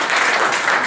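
A live audience gives a short, lively round of applause for a volunteer, a close, loud burst of many hands clapping at once, dense and even with no voices over it.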